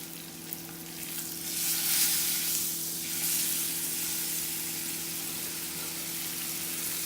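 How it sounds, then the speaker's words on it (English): Rib eye steak sears in a hot pan for a homemade steak sandwich, giving a steady, close, loud sizzle and frying hiss with a faint low hum beneath, unbroken throughout. "So we're gonna go ahead and flip the steak now. I can smell it getting pretty hot."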